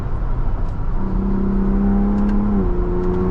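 A 2024 Ford Bronco Raptor with a V6 engine accelerates from inside the cabin, its engine note climbing into a steady drone and then shifting pitch, loud and close over road rumble, with no talking.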